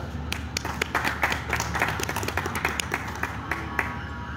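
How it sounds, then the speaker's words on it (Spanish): Audience at a book presentation on writing and publishing scientific articles applauds with steady, fairly quiet clapping and crisp individual claps throughout, no voices over it. "Por favor, recibámoslo con fuertes aplausos."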